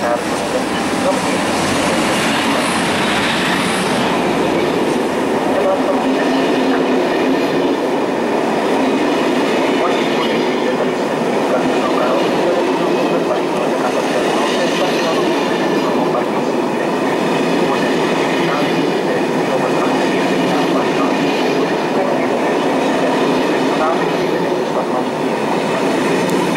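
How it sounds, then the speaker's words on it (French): An HLE 2153 electric locomotive hauling M4 coaches at Brussels-Midi station, a steady loud rumble of wheels and rolling stock with rail noise and faint squeals running throughout, close to the track. "le train ici à destination de Tournai et Mouclon de 14h21 arrive à la voie 15"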